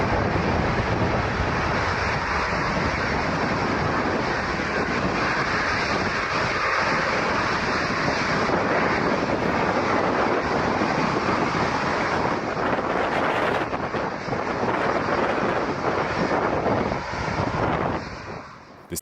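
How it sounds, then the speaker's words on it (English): A Boeing 757 on a rapid takeoff gives a loud, steady broadband jet roar that holds for nearly the whole stretch, with wind buffeting on the microphone, then eases slightly at the end. "This Boeing 757 performed a rapid takeoff, followed by a wing wave gesture."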